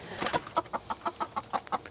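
Backyard hens in a chicken coop, in their moulting season, give a quick series of about a dozen short, close clucks in an uneven rhythm against a quiet background.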